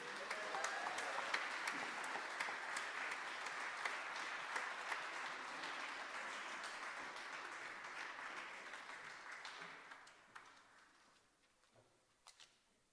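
An audience applauds at a Christmas jazz concert, a broad wash of clapping from a large crowd, steady at first and gradually thinning out to scattered claps.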